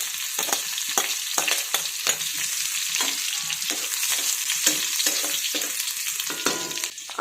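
Green chilli pieces fry in oil in a pan over full flame, a continuous bright sizzle punctuated by repeated scraping stirs at an uneven rhythm, close and clear with no talking.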